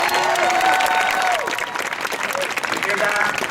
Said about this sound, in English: You hear that cheering sound?